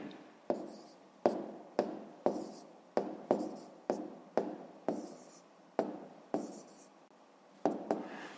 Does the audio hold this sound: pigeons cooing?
no